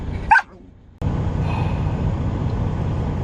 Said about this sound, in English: This freaking dog is a freaking